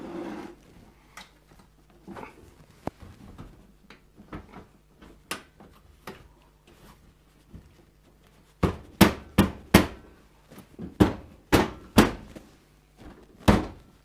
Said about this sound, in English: Making sure this panel goes on correctly, and then we can slide this panel back